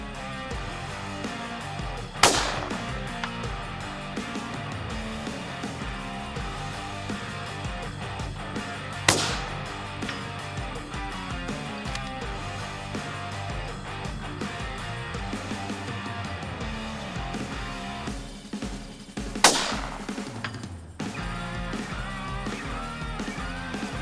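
Benelli Lupo .30-06 rifle fired during a hunting-style test at a shooting range: three sharp, loud shots spaced several seconds apart over a steady background bed.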